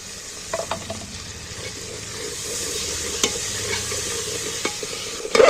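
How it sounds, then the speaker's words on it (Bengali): Spice paste of ground fennel and green chilli being stirred and fried in a pan for chicken curry, a steady loud sizzle with scraping stir strokes and a few sharp clinks, no voices. "এবার আমি ভালো করে মশলাটাকে কষিয়ে নেব"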